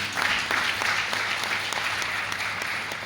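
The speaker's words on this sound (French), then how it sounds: "Je vous demande de les applaudir" An audience in a lecture amphitheatre at an institute applauds at a ceremony, a dense steady burst of many hands clapping that carries on for the whole stretch without easing.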